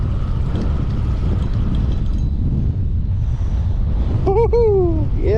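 Strong wind buffets the microphone outdoors on open water while fishing, a steady heavy roar throughout, with a brief tonal whine near the end.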